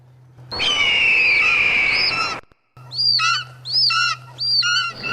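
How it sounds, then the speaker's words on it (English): Attacking birds in the low-budget horror film Birdemic: a long screeching cry over a steady hum, then a short gap and a run of repeated shrill bird calls in bursts, loud and close. "They're just like, Here come the birds."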